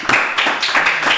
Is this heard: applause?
yes